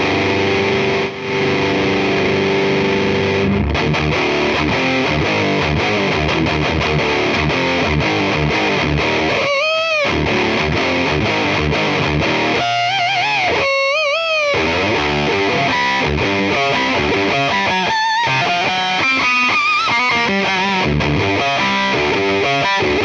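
Electric guitar run through a Harmonic Percolator fuzz pedal set to overdrive mode, loud and gritty, with thick distorted chords and single notes played in bursts and sustained stretches, with no one talking.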